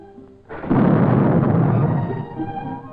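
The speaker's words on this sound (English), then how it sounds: "with a little bit of dynamite, you set off some charges under the ground." A deep, muffled blast of dynamite charges set off underground booms after a quiet half second, then rumbles on and slowly fades.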